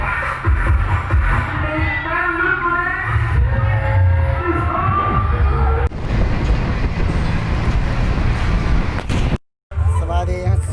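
Train rumbling past on a railway in Kanchanaburi, Thailand, a loud close mechanical roar with clattering wheels, while people talk over it and faint music plays.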